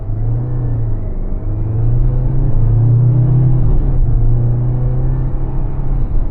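The petrol engine of a 2025 Mazda CX-70 PHEV plug-in hybrid kicks in under heavy throttle, giving a loud, steady low drone that swells briefly mid-pull as the SUV accelerates, heard from the cabin.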